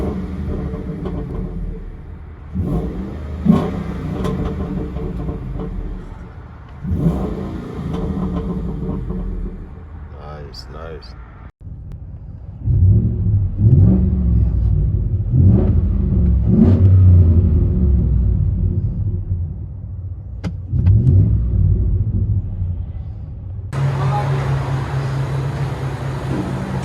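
A 2020 Ford F-150 with the 5.0 liter Coyote V8, resonator retained and a dual-tip side pipe exhaust, drones low inside the cab with repeated throttle surges, and someone speaks briefly over the engine.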